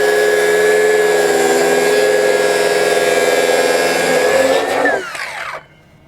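A power saw cuts steadily through a Hardwood Reflections birch butcher block, its loud whining drone holding even for several seconds before the blade breaks free and spins down to quiet.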